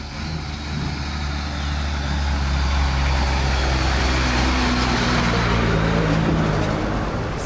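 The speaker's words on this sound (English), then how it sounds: "so you'll see trucks come through" Trucks driving past on a town street in El Retiro, a low rumbling engine drone that builds and stays loud and close, with broadband road noise.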